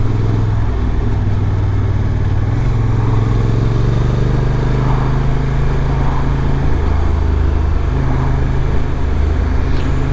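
A Honda NT1100 motorcycle is being ridden, its engine holding a steady, loud drone for the whole stretch. Wind and road rumble blend in, and no one talks over it.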